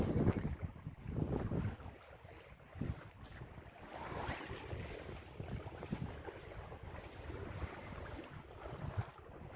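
A sailboat runs dead downwind at about 3.5 knots with the headsail out on a river, steady wind rushing and water swishing against the hull, a continuous low roar without talk.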